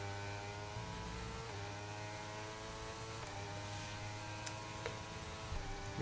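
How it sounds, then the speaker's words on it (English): A Formula 1 car engine in a racing video game at Spielberg, Austria, droning steadily with rising and falling pitch through gear changes, a continuous moderate whine with no talking. "Freaking engine revving."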